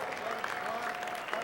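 Audience applause at a live dance show honoring the band, a steady wash of clapping from a large crowd at moderate distance, continuous and even throughout with no individual claps standing out.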